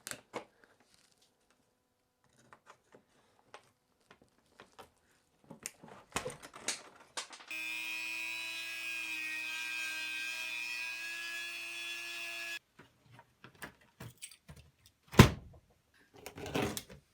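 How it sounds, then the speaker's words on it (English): A rotary cutting tool shears rivets off the lock of a vintage steamer trunk, a steady high whine lasting about five seconds, surrounded by scattered clicks, taps and a sharp knock of handling. "This lock here has a mix of nails in it, and this has got some rivets on, so I'll need to cut those off."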